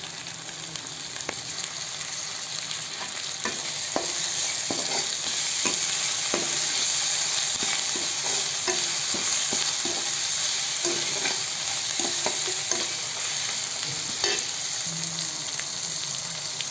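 Tomatoes sizzling steadily in a hot pan for chicken gravy, a loud continuous frying hiss with repeated scraping and clinking of a spoon as they are stirred.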